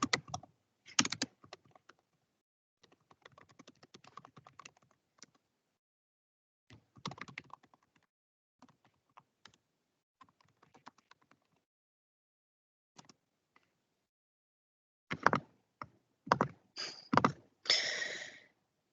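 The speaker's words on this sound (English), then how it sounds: "Maybe I should type some of this out." Keys clatter on a computer keyboard in short bursts separated by quiet pauses, close and fairly soft, with a quicker flurry of presses near the end; no one speaks.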